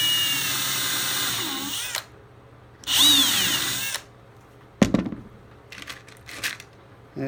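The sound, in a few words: power drill driving screws into boat rail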